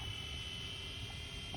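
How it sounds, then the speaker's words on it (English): Ascend Aeronautics ASC-2450 camera drone flying before an automatic landing, giving a steady high-pitched motor whine with a constant hum underneath, moderately loud and continuous. "film this landing so you guys see how good the auto landing on this drone is"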